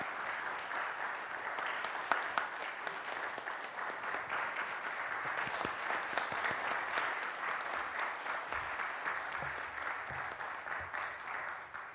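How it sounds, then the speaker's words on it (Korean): A church congregation applauds warmly and steadily at a Korean Presbyterian installation service for a new senior pastor, the clapping sustained and dense throughout without pause. "큰 박수로 축하해 주시길 바랍니다."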